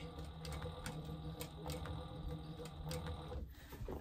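A sewing machine back stitches while sewing a notepad cover, giving a steady, close mechanical whir with rapid, regular stitching ticks throughout, with no voices.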